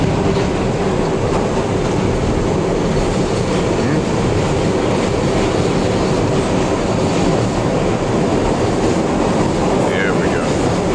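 A New York subway train rolls along the rails with a loud continuous roar and rumble heard from on board, and faint rattling runs through it throughout.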